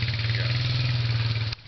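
Off-road vehicle engine revs hard and steady at close range with a strong low drone, then cuts off abruptly near the end of the short burst.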